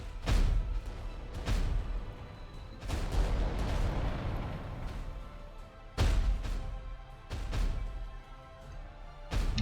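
Heavy volcano cannon fire from Titan war machines in Adeptus Titanicus: Dominus, several loud booming blasts spaced a few seconds apart, each with a rumbling decay, no voices over them.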